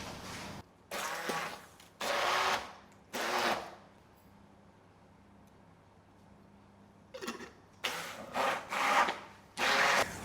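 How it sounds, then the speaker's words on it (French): A kitchen blender whirs in several short, loud pulses while mixing an edible-plant recipe, with a quiet gap in the middle before more bursts. "Et là, je vais mixer."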